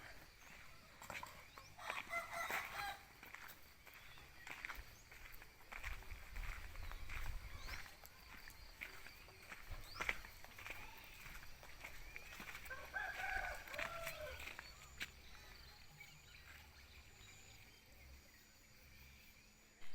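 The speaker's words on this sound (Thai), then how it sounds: "เป็ดไก่ก็จะทยอยมากินน้องหมากินแล้ว" Chickens and ducks at morning feeding time on a farm with pigs and dogs: a rooster crows several times while hens cluck, fairly faint and a little distant, with no talk.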